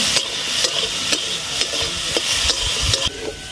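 Prawns fry with garlic and black cumin seeds in a pan, a loud continuous sizzle broken by regular scraping strokes of a spatula stirring the mixture, with no talking.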